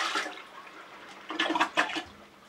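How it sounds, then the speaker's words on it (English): Water poured from a bucket into a toilet bowl sets off a siphon flush, a soft rushing gurgle that swells in bursts partway through and trails away, heard alone at low level. "You pour water in and it creates the gravity siphon."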